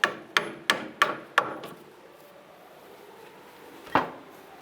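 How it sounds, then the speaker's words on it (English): Five sharp metallic hammer strikes on a stuck tie rod end of a 2005 Jeep Liberty in quick, even succession, followed by a pause and one final blow, close and ringing. "If it's stuck in there, use a hammer,"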